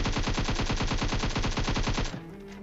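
Rapid automatic gunfire from a PUBG Mobile match rattles in a close, loud, continuous burst of evenly spaced shots for about two seconds, then cuts off abruptly.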